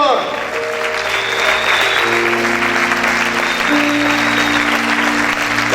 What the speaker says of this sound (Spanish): Aplaude, aplaude, aplaude fuerte al Señor.